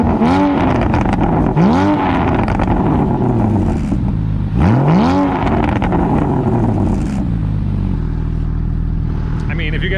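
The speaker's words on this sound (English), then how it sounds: "get you an exhaust clip" Boxer engine of a Porsche Cayman S 981 is revved repeatedly through its exhaust, with loud sweeping rises and falls in pitch before settling to a steady idle, heard close from behind the car.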